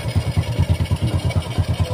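A motorcycle engine running smoothly with no misfire, a close, steady low-pitched idle pulsing in an even rapid rhythm.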